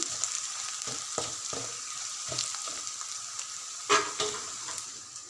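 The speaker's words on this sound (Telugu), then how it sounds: "ఒక స్పూన్ పసుపు వేయాలి పసుపు అంతటా కలిసేటట్టు బాగా కలపాలి" Golden-brown onions frying in oil with turmeric, a steady close sizzle broken by repeated scraping strokes of a spatula as they are stirred.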